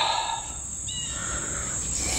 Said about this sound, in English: yeah, I hear the bird.